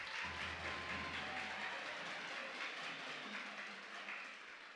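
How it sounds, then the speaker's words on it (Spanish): Audience applause at a regional oratory contest final in Panama, steady broadband clapping from a crowd sustained throughout and tapering slightly at the end, with a low hum underneath in the first part. "¡Aplausos!"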